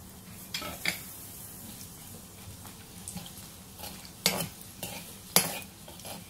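Asafoetida and dried red chillies with bay leaf and cumin frying in oil for spinach dal, a faint low sizzle broken by several sharp clinks and scrapes of a spoon stirring against the pot, close and without talk.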